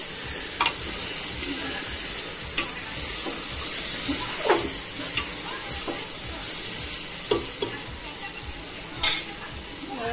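Khichdi rice with chillies and spices being stirred in a pan, giving a steady sizzle and hiss with several sharp scrapes and clinks of a spoon against the metal at irregular intervals.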